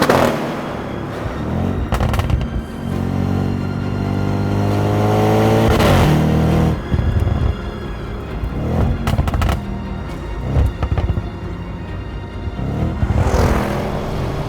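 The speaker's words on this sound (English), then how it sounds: "I'm pretty sure I can hear the pops and bangs from James's car from here." Sharp exhaust pops and bangs burst out repeatedly over a revving Audi RS7 engine, loud and close, in irregular clusters.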